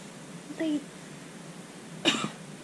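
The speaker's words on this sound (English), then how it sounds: "That's a quiet cough on camera, but when it's off camera, that cough is loud." Two faint, short coughs, one soft and one slightly sharper a second and a half later, against a quiet room hum.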